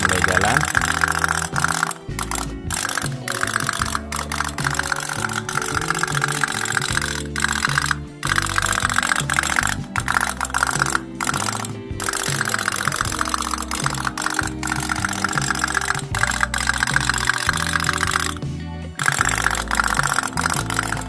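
An otok-otok toy boat engine runs as the little boat starts moving, a steady mechanical putter with brief dropouts, while people talk nearby over it.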